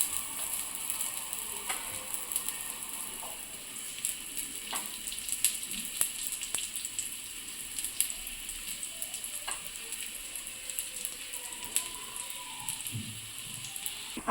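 Soybean tikki frying in oil in a pan gives off a steady, even sizzle with faint crackles scattered through it. The sound holds at a moderate level throughout, with no voices.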